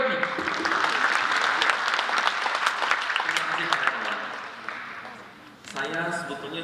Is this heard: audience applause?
yes